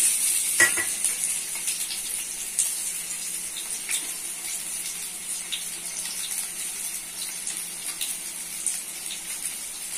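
Potatoes fry in hot soybean oil, giving a constant bright hiss of sizzling with a sharp clatter near the start and faint scattered pops afterward.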